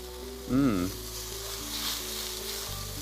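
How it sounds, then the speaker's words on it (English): Vegetables sizzle steadily in a hot wok, a soft continuous crackle with a brief tonal squeal near the start. "The one thing you want to hear for is the sizzle"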